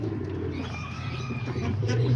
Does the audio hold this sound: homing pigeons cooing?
yes